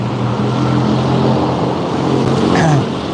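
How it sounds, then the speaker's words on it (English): Noisy road traffic on a street in Thailand, a loud continuous roar of passing engines with a vehicle swelling by, close and dense. "The traffic is very noisy on here"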